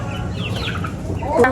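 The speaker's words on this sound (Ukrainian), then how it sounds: "Курчата." Chickens cluck softly in the background on an American farm, with a sharper squawk near the end; faint voices and farmyard ambience underneath.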